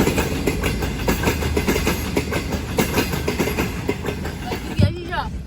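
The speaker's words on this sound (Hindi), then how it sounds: "ट्रेन आ गई।" A train pulling in at a station, a continuous rumbling clickety-clack of rolling wagons with a steady rhythmic beat, loud and close, and a brief louder clunk near the end.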